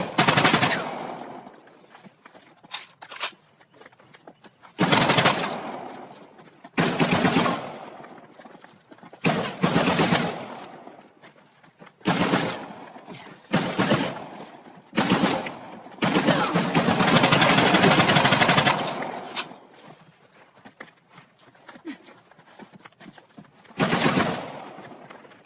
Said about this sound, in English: You boys really don't want me shooting from down here.